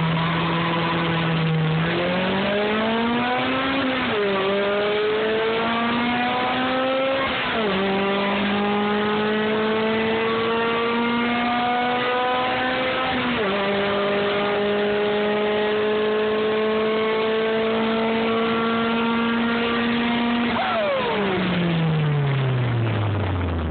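A JDM B16-powered DC2 with a stock transmission and open headers screams hard through the gears, the loud, raspy engine note climbing steadily and then dropping at each of several upshifts, with no talking.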